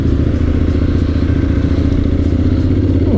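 Honda X-ADV 750 motorcycle on a city test ride, its engine a loud, steady low drone with a rhythmic throb, heard up close from the rider's position along with some rattling clatter.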